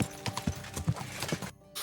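Horse hooves clip-clop at an even trotting rhythm in the video game Kingdom Come Deliverance 2, several distinct close strikes over a quiet background before a brief cutoff.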